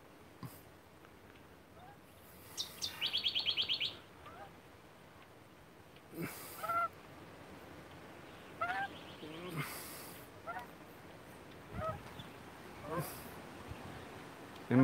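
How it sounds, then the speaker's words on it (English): A pet magpie in a backyard gives several short, bright calls and warbles in separate bursts, fairly close, over a quiet background. "And that's my pet magpie"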